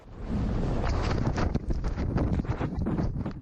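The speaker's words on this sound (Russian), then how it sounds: "Находится пик горы очень высоко, и довольно часто там случается это, именно ветер" Strong wind gusts on a high mountain peak buffet the microphone in a continuous roaring rush, loud and close, with no voices.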